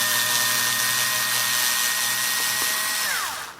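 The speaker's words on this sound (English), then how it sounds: "Let's drill it." A power drill bores a hole through the flat side of a part while upgrading a Fayee FY004A, running as one steady, close, loud whine that winds down at the very end.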